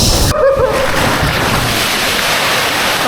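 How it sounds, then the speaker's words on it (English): Water splashes hard at the bottom of a water slide into a warm pool in a Tokyo love hotel, a loud, close rush of churning water that washes on steadily. "Did you hear that splash?"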